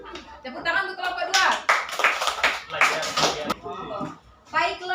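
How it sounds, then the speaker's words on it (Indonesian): A class claps for a student group after a poetry reading, a short burst of mixed clapping in the middle, with voices before and after. "Tepuk tangan untuk kelompok"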